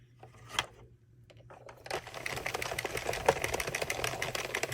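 An Addi or Sentro circular knitting machine cranks out a football-pattern ear warmer, giving a steady, fast mechanical clatter of rapid clicks that starts sparse and builds to a dense, continuous rattle, close and moderately loud.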